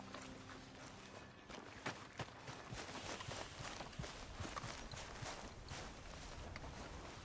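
Horse hooves walking in the Red Dead Redemption 2 video game, a steady soft clip-clop of paces that carries through the whole stretch at a low, even level with no talk over it.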